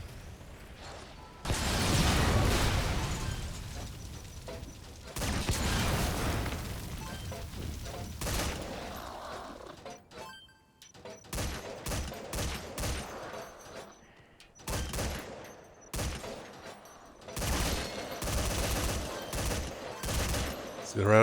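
Machine gun fire in Metal Gear Survive, long sustained bursts followed by rapid choppy volleys of shots, with voices talking over parts of the shooting.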